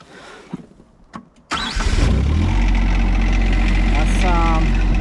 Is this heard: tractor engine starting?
yes